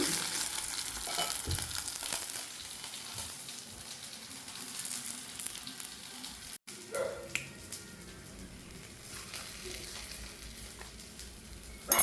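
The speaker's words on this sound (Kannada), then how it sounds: "ಇವಾಗ ಈ ಮೀನು ಕೂಡ ಫ್ರೈ ಆದ್ದು ಸಾಕು" Goré fish fillets coated in spiced masala fry in a pan with a steady, fairly quiet sizzle and crackle, with faint stirring clicks partway through and no one speaking.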